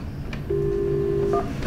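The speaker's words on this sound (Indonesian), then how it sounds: "Kita telpon nih." A telephone call is dialed: quick keypad tones then a steady tone of about one second, followed by a brief beep, close and clear over low room hum.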